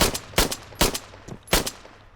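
Pistol shots in the military shooter game Arma 3, a handful of sharp, loud cracks fired in a quick uneven rhythm, each followed by a short echoing tail, with no talking.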